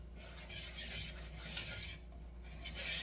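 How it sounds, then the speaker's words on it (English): A wire whisk scrapes and rasps steadily through salt and baking soda in a bowl, mixing the dry ingredients for banana bread; a quiet, continuous stirring texture with no voices. "just whisk these two ingredients, or these dry ingredients, together"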